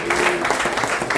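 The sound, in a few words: audience round of applause for 19 Keys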